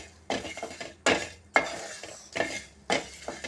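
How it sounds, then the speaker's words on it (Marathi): Chillies and garlic roast in a pan while a utensil stirs them in about six sharp, rhythmic scrapes and clatters against the metal. A faint sizzle sits underneath. "तर ह्या मिरच्या आणि लसूण मी व्यवस्थित भाजून काढून घेते"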